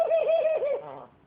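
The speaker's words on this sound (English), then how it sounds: "High laughers really sound like they're laughing at you" A Thai laugher pigeon gives a single rolling, pulsing coo that wavers rapidly up and down, close and clear, then tapers off into a lower trailing note.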